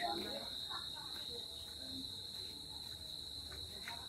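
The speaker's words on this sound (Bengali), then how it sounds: "চারিদিকে ঝিঝি পোকা ডাকছে," Crickets chirp on a clear autumn night, a constant high steady trill holding throughout at low volume, with faint soft background rustles and no clear speech.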